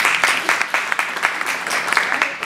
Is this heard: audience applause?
yes